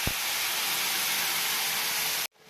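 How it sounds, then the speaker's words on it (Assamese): Nigella seeds hit oil left hot from frying fish and sizzle in a loud, even hiss that runs unbroken, then cuts off abruptly near the end. "ইয়াৰে কেইটামান মাছ ধুনীয়াকৈ একদম কৰকৰাকৈ ভাজি লৈছোঁ আৰু ভাজি লোৱা তেলতে দি দিছোঁ কালিজিৰা"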